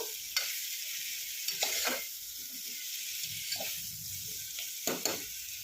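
Vangibath masala with turmeric powder fries in a pan with a constant soft sizzle, broken by several sharp scraping clicks of a spoon stirring close by.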